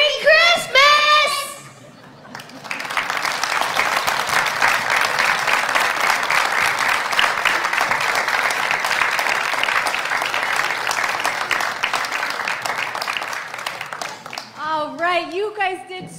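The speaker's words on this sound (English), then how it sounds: "Let's give them one more round of applause for that." A church congregation applauds after a children's Christmas program, a broad wave of clapping from a large crowd that swells and holds for about twelve seconds, with someone speaking just before and after.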